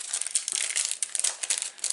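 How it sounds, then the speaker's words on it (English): Cellophane bag holding handmade thank-you cards crinkles steadily and close up, a dense, continuous rustle with sharp crackling bursts and no voices. "We're in a cellophane bag."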